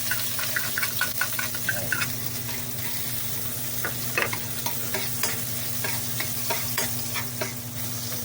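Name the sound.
garlic sizzling while sautéing in hot oil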